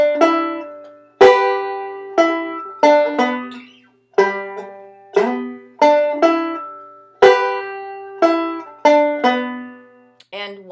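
A banjo picks a lick in 3/4 time with a descending walk-down, each bar opening on a sharp, bright strum that rings and decays before the next, played close and alone at a steady waltz pace.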